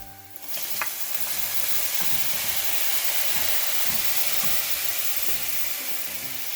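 Chopped tomatoes hit a pan of frying onions for a fried kienyeji chicken dish, setting off a loud, steady sizzle that swells after a brief opening thump and holds broad and close throughout, with faint scraping underneath.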